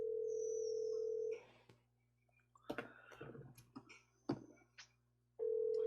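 A steady telephone dial tone sounds after a caller hangs up, then gives way to scattered clicks and handling noises before the same continuous tone returns.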